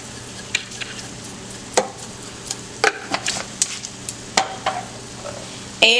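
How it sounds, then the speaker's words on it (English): Seasoned chopped steak with black pepper and seasoning salt is stirred in a frying pan, scattered utensil scrapes and clicks rising over a steady low sizzle, close and alone. "just stir it all together and let it all cook together"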